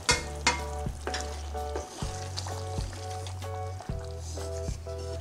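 Sautéed baby potatoes, onion, tomato and capsicum are stirred into a simmering gravy, with a soft wet sizzle and repeated squelching stirs close by, and a background musical hum beneath, with no talking.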